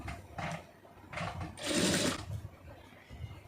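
A sewing machine stitching a lining blouse runs in short whirring bursts, one longer run in the middle, close and moderately loud with no speech.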